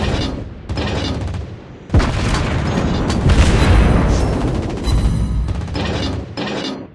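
Heavy naval gunfire and shell explosions in World of Warships Blitz, with a Tier 7 USA cruiser New Orleans firing on an enemy ship: loud, continuous rumbling booms with sharp impacts near two and five seconds.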